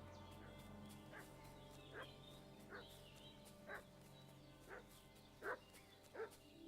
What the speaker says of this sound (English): What's that dog making such a noise about?